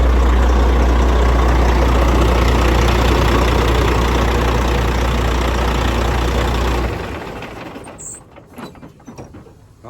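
A newly bought truck idles with a loud, steady low rumble for several seconds, then shuts down, leaving faint clicks and rustling behind.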